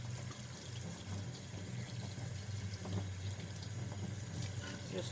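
Running water rinses polishing paste out of the grooves of a brass piece, making a steady, soft hiss and splash throughout with no breaks.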